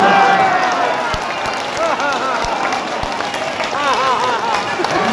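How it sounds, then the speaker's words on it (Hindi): Clapping from a crowd gathered for a devotional storytelling session in Braj, heard as loud, irregular claps blended with laughter and a murmur of voices, along with sustained tonal sounds. "एक बार सब लोग प्रेम से ताली मार के हंस जाओ भगवान"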